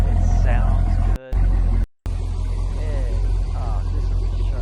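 A Corvette engine idles and runs steadily with a low, continuous rumble, heard near and even throughout, with two brief dropouts partway.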